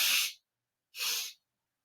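Two sharp, airy breaths in quick succession, each a rushing hiss lasting under half a second, separated by a brief silence, as in a double-breath breathing exercise done close to the listener.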